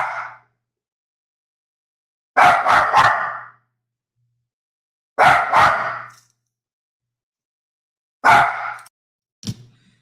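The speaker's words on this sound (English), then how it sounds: "My dog decided that he wanted to bark." A dog barks indoors in three short bursts of two or three sharp barks each, spaced a few seconds apart with silence between, then one brief final yip, close and loud.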